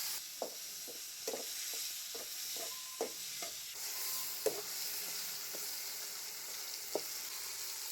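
Chopped tomatoes with salt sautéing in a pan for a Chettinad lima bean gravy, a soft continuous sizzle broken by several sharp ladle scrapes and taps.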